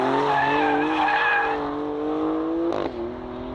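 A Maserati Grecale Trofeo SUV pulls away hard, its engine note steady and loud while tyres squeal in rising and falling tones, ending with a sharp upward sweep and a slight drop.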